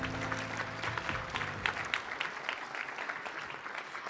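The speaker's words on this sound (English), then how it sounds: "another big round of applause for all our finalists" Award ceremony audience gives a big round of applause for the finalists, steady clapping from a sizeable crowd that fills the room and holds at an even level throughout.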